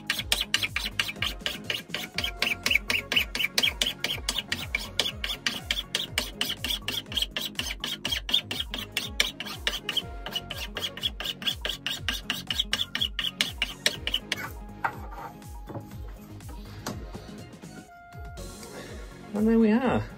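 A hand file rasps over a wooden toy in quick, regular back-and-forth strokes, close and steady, while someone talks over the work before the filing stops near the end.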